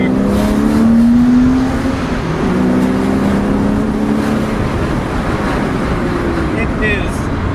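Porsche Boxster S engine pulling hard in second gear, a loud, continuous drone that climbs in pitch, heard from inside the car with no pauses.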